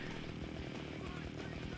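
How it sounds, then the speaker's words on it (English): A chainsaw attack in the 2010 video game Splatterhouse gives a loud, continuous buzzing roar that runs through the whole short stretch with no gaps. "Try hitting X and Y for different chainsaw attacks."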